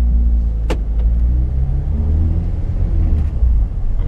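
Peugeot 308 on a test drive after a service and wheel-bearing repair, a steady low cabin rumble of engine and road noise with a couple of brief clicks, close and continuous with no talking.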